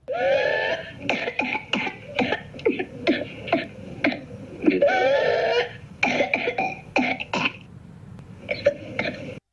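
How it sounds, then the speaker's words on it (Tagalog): Repeated harsh whooping cough (pertussis) bouts with strained, whooping intakes of breath between them, close and loud, continuing in fits with brief pauses. "Isa sa mga common na sintomas ay ang ubo at hirap sa paghinga tulad nito."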